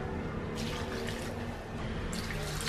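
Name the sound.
pouring water to rinse salted bitter gourd in a bowl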